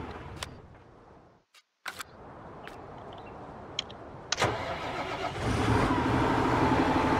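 Dual-wheel tractor engine starting in the Farming Simulator video game, a short crank followed by a steady rumbling idle that swells louder toward the end, with no voices.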